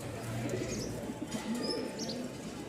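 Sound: pigeons cooing, Moyna flock pigeons

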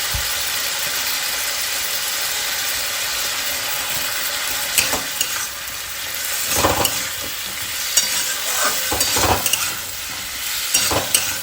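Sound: sautéing khichuri base with coriander, cumin, chili powder

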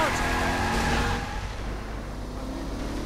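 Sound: car driving in the video game Saints Row 3

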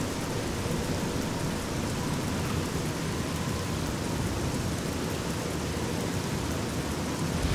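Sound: rain in Fallout: New Vegas video game

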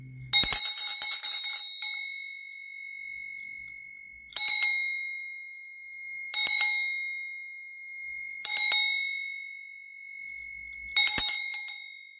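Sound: bell being rung

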